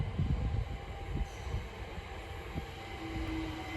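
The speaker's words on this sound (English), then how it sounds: "Now arriving is the 1318 London Overground service from Hybern in Islington to Crystal Palace, being worked by a class 378." A London Overground class 378 electric train pulls into a station at Sydenham with a low rumble of wheels and motors, and a faint squeal of brakes near the end.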